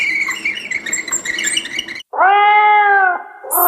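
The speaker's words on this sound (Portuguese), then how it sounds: "Sim, um gato!" A cat gives one loud, drawn-out meow close by, following a stretch of other busy animal noise and ending with a brief high squeak.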